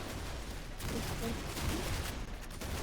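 Dense, noisy gunfire fills a Roblox shooting game in a continuous rattling barrage, loud and unbroken for a few seconds.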